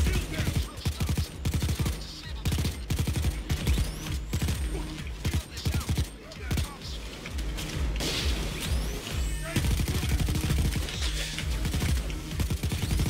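Rapid bursts of automatic gunfire from a Payday 2 Transport: Crossroads heist firefight, dense and repeated throughout with loud overlapping shots and impacts, steady and close.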